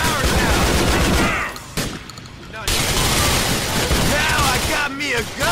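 Heavy gunfire in GTA IV The Lost and Damned, dense bursts of shots and impacts filling the scene, loud and close, briefly easing before the firing resumes.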